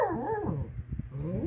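A pet dog named Foo whimpers and yips up close, with whiny rising and falling cries followed by a few short sharp yelps.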